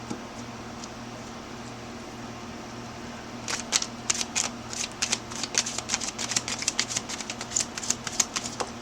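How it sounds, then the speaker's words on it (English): Someone shuffles a fairly new deck of playing cards: a faint hum at first, then a run of sharp, rapid riffling snaps close by that continues to the end. "Some of these cards are kind of new, so they don't shuffle as well as ones that have been used a lot."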